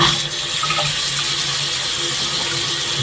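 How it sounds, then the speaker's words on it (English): Water runs steadily from a Delta faucet under repair, opened for a leak test, making a continuous hiss and splash with no talk. "Water flows."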